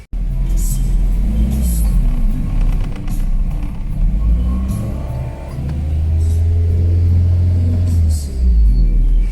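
Car with a P2111 throttle actuator fault, low power and misfire, engine revved under full throttle: a loud, close, uneven rumbling drone that rises and falls without speech.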